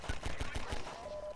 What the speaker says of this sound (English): Let's get up and shoot these combines.